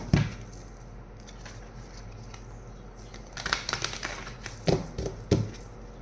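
Tarot cards being shuffled by hand: a soft, steady riffle at first, then a cluster of sharper slaps and taps toward the end as the deck is squared and cut, close and fairly quiet, with no talking.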